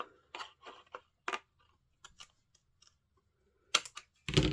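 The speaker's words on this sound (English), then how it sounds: "And I'm just going to cut that off" Paper trimmed with scissors at a craft table, making a run of crisp snips and blade clicks in short bursts with pauses between, close and distinct, ending in a louder cluster of cuts.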